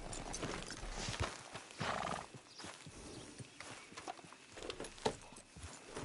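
A horse in a video game clip-clops along at an uneven walking pace and lets out a whinny, set against rustling outdoor game ambience.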